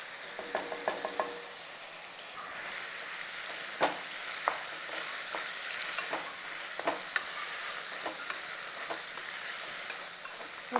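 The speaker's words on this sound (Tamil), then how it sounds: "ஸோ சிக்கனை வந்து இப்போ நல்லா வதக்கிட்டுருக்குறோம்." Chicken for Chettinad chicken masala, with turmeric, sautés in a pan: a steady close sizzle fills the clip, broken by repeated sharp scrapes and clacks as a utensil stirs the pieces every second or so.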